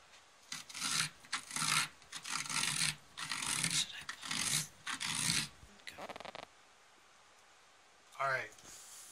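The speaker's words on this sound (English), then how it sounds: "I'm going to scrape more out of the inside" A carved pumpkin is scraped out from the inside, a series of close rhythmic rasping strokes in short bursts, then a pause and one final scrape.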